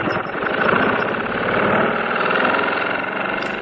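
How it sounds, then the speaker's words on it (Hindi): A bus engine runs steadily with a loud, continuous rumble and vibration, close by and unbroken throughout, with no voices. "इंजन चल रहा था।"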